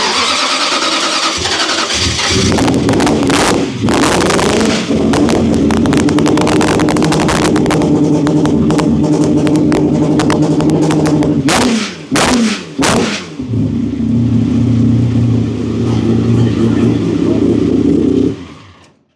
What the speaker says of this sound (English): Nice and crisp sounding Nissan engine there.